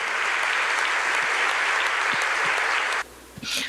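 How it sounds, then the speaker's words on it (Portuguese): A church congregation claps in praise during a service, a dense, steady wash of applause lasting about three seconds before cutting off abruptly, followed by a brief quieter burst. "Vamos aplaudir o nosso Deus, que Ele merece."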